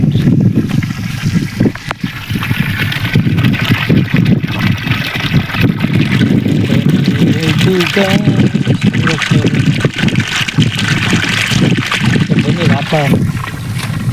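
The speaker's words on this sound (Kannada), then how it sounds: "ಡ್ರಮ್ಮಿಗೆ ನೀರು ಹೋಗ್ತಾಯಿದೆ" Steady rushing and splashing of water pouring into a drum, continuous throughout, with a person talking over it.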